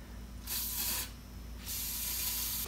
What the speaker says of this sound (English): spray liberally WD-40 or the equivalent into the water separator